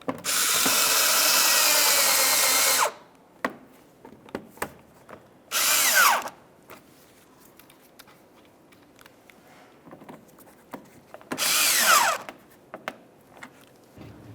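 A power drill drives Phillips head screws into the plastic front inner fender liner of a 2012-2018 Nissan Altima, in one long whirring run and two shorter bursts, with small clicks and handling noises between them.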